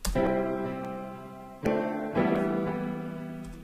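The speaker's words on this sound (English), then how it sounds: "We can change that straight away to a sort of echo piano," Sustained echo piano chords from GarageBand '09 with a shimmering, repeating echo tail, struck three times and ringing out between strikes, clear and close with no voices.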